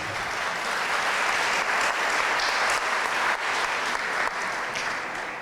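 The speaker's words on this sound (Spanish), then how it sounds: "Un aplauso, por favor, para nuestra ponente." Sustained applause from a crowd, steady and fairly loud throughout, with no voices over it.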